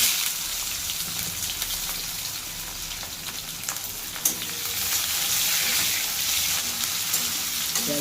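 Onion dropped into very hot oil with chillies and bay leaf, a loud, dense sizzle and crackle that stays continuous, swelling slightly midway, with a few sharp spits and no talking.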